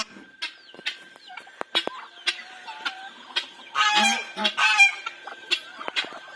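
A young goose honks in a backyard flock alongside chickens, with short scattered calls and a louder cluster of honks midway, close and clear in otherwise quiet surroundings.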